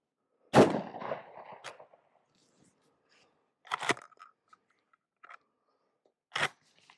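Black Aces GT9 shells fired from an old Mossberg shotgun outdoors: three sharp, loud single blasts several seconds apart, each followed by a short decaying tail and faint handling clicks.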